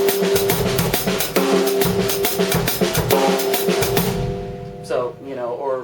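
Half-time shuffle drum groove with ghosted snare strokes between backbeats and steady hi-hat, played over sustained keyboard-like tones, running loud for about five seconds before fading as a voice starts talking at the end.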